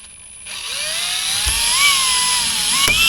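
A high-pitched power drill whines steadily while drilling holes to refit a clip on a boat boom, its pitch rising and dipping as it bites into material, with a couple of brief knocks.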